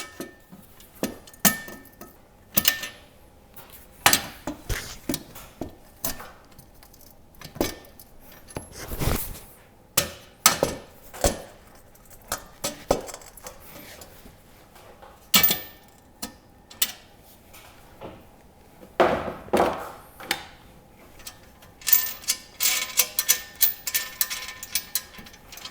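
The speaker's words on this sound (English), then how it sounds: "I'm gonna just pry out on this." Prying on a TV mount fixed to stone: irregular sharp metallic clinks, taps and scrapes, close by, in uneven bursts with pauses, no talk.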